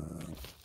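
A dog in the video game Minecraft gives a brief, faint growl, one short rough burst over quiet game audio.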